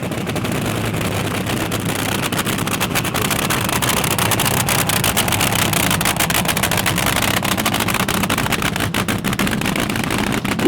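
Top fuel dragster with a late model Hemi engine firing up, a loud continuous rough roar with crackling bursts throughout, heard alone without talk.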